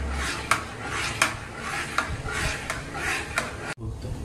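A spoon scoops kulfi mixture into a hollowed mango, giving a series of light, regular clinks and scrapes against the dish, ending with a sharp knock.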